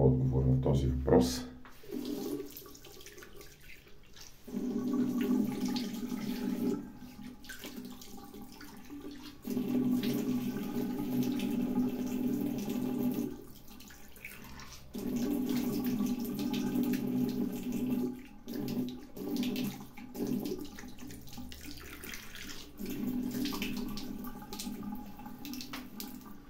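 Water runs from a tap in steady stretches during a wet shave with a Valet VC2 safety razor and Areffa Kentucky Bourbon soap, while someone talks over it.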